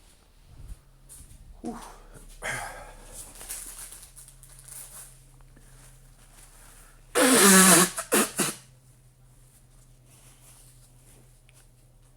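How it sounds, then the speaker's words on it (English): A person blows their nose in one loud, broad burst of about a second, followed by a shorter honk, with a breathy exhale and faint room noise around it. "I'll just have to blow my nose."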